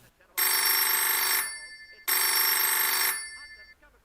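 A telephone rings in two long, loud electronic bursts of about a second each, separated by a short pause, with nothing else heard.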